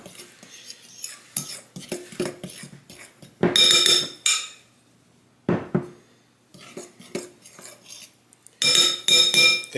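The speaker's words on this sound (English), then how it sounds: "we're going to go ahead and mix this up with a fork" A fork stirs gluten-free pizza dough mix with yeast in a bowl, making bursts of scraping and clinking metal against the dish, with brief loud clatters between quieter stirring.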